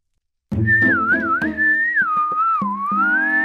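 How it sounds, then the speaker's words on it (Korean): A person whistles a wavering, sliding melody indoors, practising a tune in place of a recorder for a school music test; the whistle is close, loud and continuous for about three seconds, with no talking over it. "너 지금 휘파람 불었니?"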